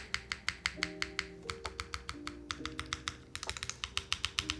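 Mechanical keyboard switches are pressed during a keyboard build, a quick run of crisp clacks and taps, close but fairly quiet, bunching into a faster flurry toward the end, with no voices and a soft musical tone underneath.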